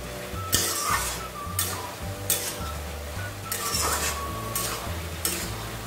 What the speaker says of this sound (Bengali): এবার ঢাকা তুলছি, আবার একটু নাড়িয়ে দিচ্ছি।